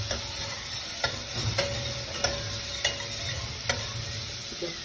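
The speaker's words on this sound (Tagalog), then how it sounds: "Kailangan pa-golden brown muna natin yung bawang para masarap." Garlic fries in butter in a pan for shrimp, with a steady sizzle and a regular series of sharp spatula clicks against the pan.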